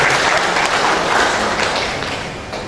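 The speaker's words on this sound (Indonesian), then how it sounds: "tepuk tangan untuk Poskamling" Applause from an audience at a community policing outreach event, honoring the first-place Poskamling neighborhood watch post team; a steady, dense wash of clapping that holds throughout.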